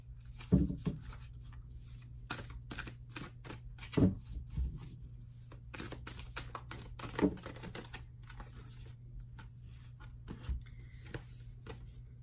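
Tarot cards being shuffled and handled at close range, with irregular soft riffles and slaps scattered across a quiet background.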